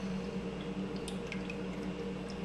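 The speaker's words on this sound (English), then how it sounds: "We went through 3 filters, pouring all of this out." Cold press coffee being poured through a filter gives a steady wet trickle with scattered small drips and splashes, continuous and fairly quiet throughout.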